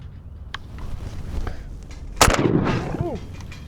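A shotgun blast during a pigeon hunt on a dairy farm, one sharp loud report followed by a short rumbling tail, with quieter background noise and a brief voice-like sound afterward.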